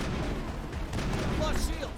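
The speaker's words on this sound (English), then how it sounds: "while progressing we hear a gunshot" Gunfire during combat in the video game Mass Effect 1, dense and continuous over two seconds, with blasts blending into a busy wash of game noise and effects.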